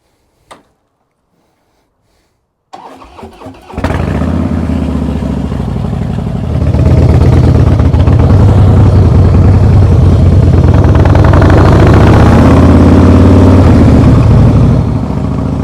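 A Harley motorcycle back from repair cranks and fires up after a brief click, then settles into a loud, close, steady rumbling idle with no talking.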